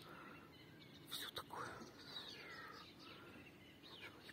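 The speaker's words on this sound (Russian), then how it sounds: "Птички поют где-то сзади." Birds sing faintly somewhere behind on a calm morning, a few thin chirps and short warbling calls rising over a soft outdoor hush.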